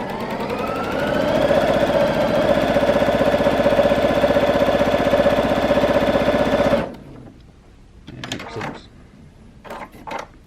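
A Baby Lock Allegro sewing machine runs a straight stitch at speed, a loud, steady rapid mechanical whir for several seconds, then stops, leaving a few faint clicks and handling noises.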